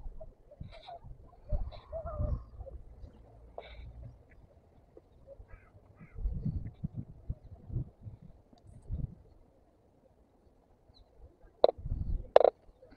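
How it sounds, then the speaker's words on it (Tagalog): Seagull calls ring out in short bursts over murky, fast-flowing water on a cloudy day, with scattered cries early on and a sharper pair near the end above a low rumbling background. "Ang tawag ng ibon na yan. Seagull."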